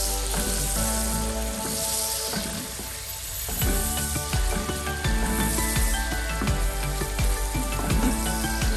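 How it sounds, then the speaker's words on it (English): Sliced onions sizzle and fry in red palm oil for a Cameroonian achu and yellow soup, a loud, steady crackling hiss with occasional stirring, close and continuous without voices. "I just need that flavor, like fried in my red oil."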